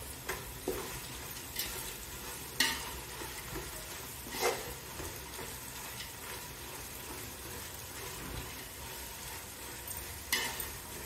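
Chopped vegetables fry in a hot pan with coriander and mint, a steady sizzle broken by occasional scraping stirs and light clinks, close and without talk.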